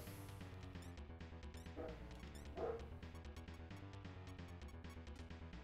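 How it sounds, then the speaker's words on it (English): Dog barking repeatedly in a video game, quick bow-wow yips over a steady layer of game music and effects, with a couple of louder bursts midway. "Why is the dog going ape up there?"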